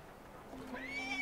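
A horse whinnies in the video game Assassin's Creed Syndicate, a rising, wavering neigh emerging late in the clip over low ambient game noise at moderate loudness.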